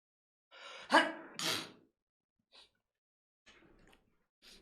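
A single close sneeze with a sharp intake and burst, followed by a few faint sniffs and breaths in an otherwise quiet room.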